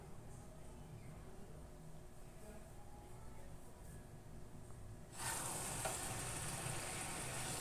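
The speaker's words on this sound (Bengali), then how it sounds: "এখন আমি এর মধ্যে ভেজে রাখা আলু আর চিকেনটা দিয়ে দেবো" Fried potatoes and chicken go into a pan of sizzling masala, a steady low frying hiss that swells suddenly into a louder, brighter sizzle as they land and are stirred, close and alone.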